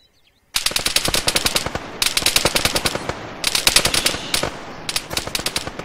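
Rapid automatic gunfire in the military shooter Arma 3 rattles out in three close, loud bursts of fast, evenly spaced shots with brief pauses between them.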